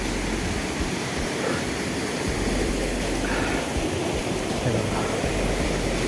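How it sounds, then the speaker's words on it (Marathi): Water flows steadily near a hillside temple, a broad continuous rushing wash that stays even and fairly loud throughout, with no voices. "हे बघा हे पाणी सगळं जात आहे"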